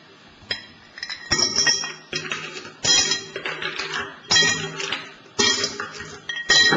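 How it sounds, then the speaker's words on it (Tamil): Ice cubes are dropped into a large bottle, making bright clinks and rattling knocks in several bursts, close and fairly loud. "இந்த பெரிய பாட்டில்ல கொஞ்சம் ஐஸ் கட்டிகளை போடும்"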